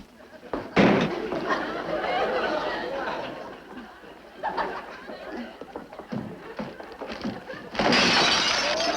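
Glass inside a tossed parcel smashes with a sharp crash in a sitcom post-office scene, and a second shattering burst follows near the end, with people chattering throughout.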